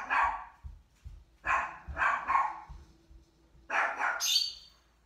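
A small dog barks loudly and close, firing off several sharp yaps in quick clusters with short pauses between them.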